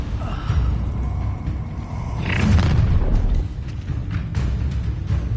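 A fire spell bursts out in Hogwarts Legacy, a loud whooshing rumble with a deep boom that swells near the middle and rolls on with crackling, fiery noise, alone without any talk.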